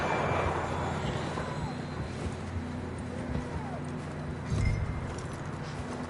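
Horse hooves clip-clop steadily in Red Dead Redemption, a continuous trotting beat under game ambience with a low rumble, close and moderately loud.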